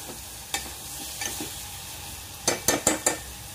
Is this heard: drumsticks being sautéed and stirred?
yes